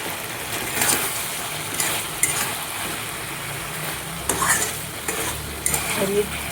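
Okra being sautéed for a mustard-style bhindi chochchori, sizzling steadily in a pan with repeated scraping stir strokes of a spatula, close and fairly loud throughout, no talking.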